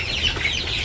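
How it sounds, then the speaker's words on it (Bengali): Chickens cluck continuously in a farm pen, close and fairly loud, in short overlapping calls with no voices. "এখন ওই পাশে কিছু মুরগি আছে, মুরগিগুলা ধরে এই পাশে দিয়ে দিব"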